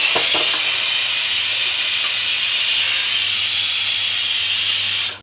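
A pressure cooker on a three-burner kitchen stove vents steam in a loud, steady hiss that runs unbroken for several seconds before cutting off abruptly, with a faint low hum beneath it.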